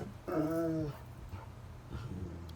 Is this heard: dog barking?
yes